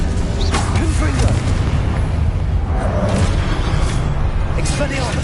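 Booming fiery blasts from an explosive spell cast in a fantasy wizarding video game, several heavy bursts across the stretch, loud and layered over a continuous rumbling game soundscape with a voice calling out spell names.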